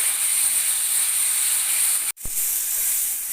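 Frying masala for a soybean and potato dum aloo hisses loudly and steadily in a pan as water goes in, broken by one brief sharp clatter midway, then the hiss resumes.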